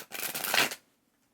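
Tarot cards are shuffled in one quick, crisp riffle lasting under a second, close and fairly soft, followed by silence.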